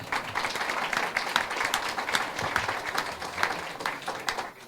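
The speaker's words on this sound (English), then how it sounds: "Applause." Audience applause following a venture capital panel on energy and climate tech, a steady wash of many hands clapping throughout, fairly close and continuous with no talk over it.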